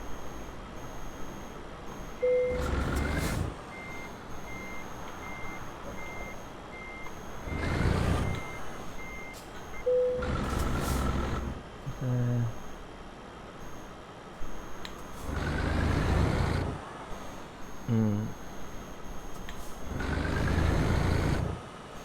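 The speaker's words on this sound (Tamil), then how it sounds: "இப்போ நம்ம வந்து இந்த வண்டியை வந்து நம்ம ஓட்டி பார்ப்போம்" A Mercedes-Benz truck in the Euro Truck Simulator 2 video game runs with a low engine drone, and repeated bursts of reversing beeps and brief mechanical hisses sound over about twenty seconds.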